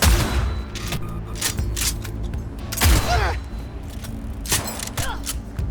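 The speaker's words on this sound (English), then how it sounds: "Firing at close range!" Gunfire rattles through a tense firefight in the video game Cyberpunk, with repeated sharp close-range shots and heavy booms landing in quick, irregular bursts over game ambience.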